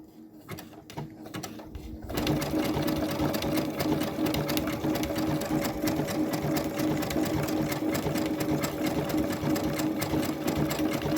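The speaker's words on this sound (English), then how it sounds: "I'm doing this design and I just did this one. The little stars." A sewing machine stitches a decorative star pattern on a crazy patch purse, running steadily and loudly with a fast, even mechanical chatter after a short quiet start.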